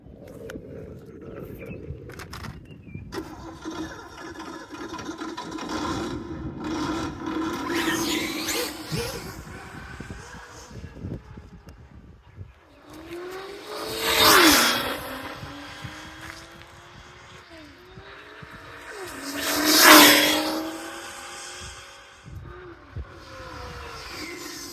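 A Kyosho Inferno GT3 AMG GT RC car on 4S power runs with a whining motor that builds early on, then makes two loud high-pitched passes that rise and fall before a lower steady running sound continues.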